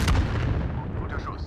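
A heavy gunfire blast in Call of Duty: Modern Warfare booms at the start and rumbles away under continuing noise, with a faint voice briefly audible near the end.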